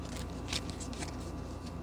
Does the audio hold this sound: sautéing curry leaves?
no